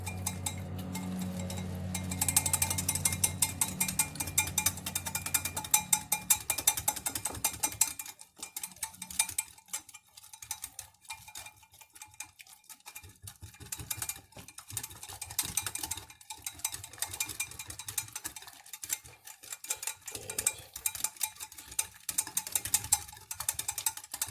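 A whisk beats olive oil into a roasted-cauliflower dressing mixture in a bowl, a fast, continuous metallic ticking and clinking that runs steadily throughout at moderate level with no talking.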